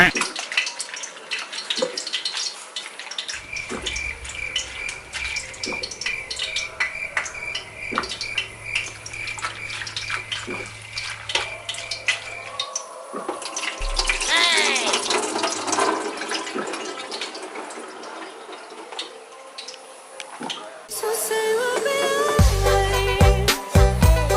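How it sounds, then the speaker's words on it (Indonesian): Vegetables washed under a running tap while cooking special mie goreng, a steady splashing water stream running throughout, fairly close, with kitchen clatter and a louder burst near the end. "Ini sekarang sayurnya dicuci."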